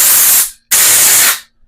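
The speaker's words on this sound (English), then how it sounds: "First, I'm going to take some compressed air, give a little" Two loud close hissing blasts of compressed air on a KYB motorcycle fork part, each lasting about half a second with a short gap between them.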